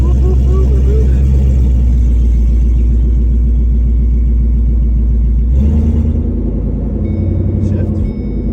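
A Ford Mustang S550 with a newly replaced valve body pulls away in drive, its engine a loud, close, steady low rumble that shifts pitch partway through, with voices talking over it.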